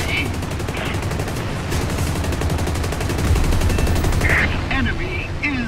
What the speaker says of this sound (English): Use the fire button to shoot at hostile aircraft.